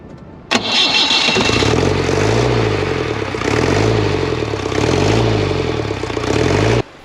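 A diesel off-road vehicle's engine cranks briefly, catches and roars into a loud, close idle with a rhythmic, lumpy throb that holds steady until it cuts off.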